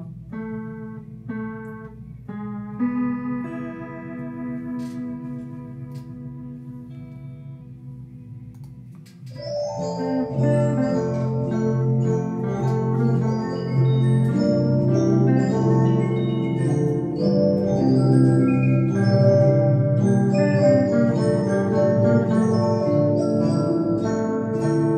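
A guitar exercise on the top three strings: sparse single notes picked one by one at first, then a fuller, louder run of ringing notes continuing steadily to the end, close and clear with no talking.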